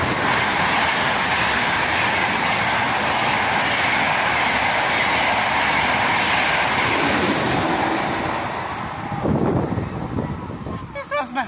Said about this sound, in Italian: Non aspettavo che era così veloce il treno.